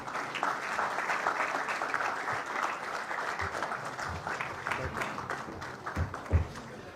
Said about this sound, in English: Can we have a huge round of applause, please?